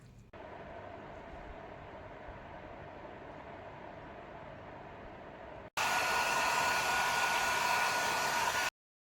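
A hair dryer blows on a cat after its bath, a steady whirring hum that switches off briefly and then returns louder and harsher on a higher setting before cutting out.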